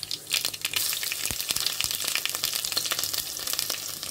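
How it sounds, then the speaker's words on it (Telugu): Onions and green chilies fry in oil in a pan, a close, crackling sizzle with sharp spitting pops scattered across the whole stretch and no voices. "అలాగే ఉల్లిపాయ పచ్చిమిరపకాయలు కూడా వేసేసుకున్నాం మనం."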